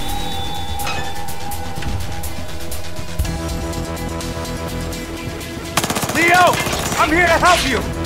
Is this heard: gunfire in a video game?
yes